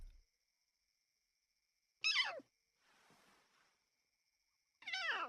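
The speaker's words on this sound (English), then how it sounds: "Her young cub's meows are a sign of distress." A young lion cub gives two short, high distress meows a few seconds apart, with a soft breathy rustle between them against an otherwise quiet night background.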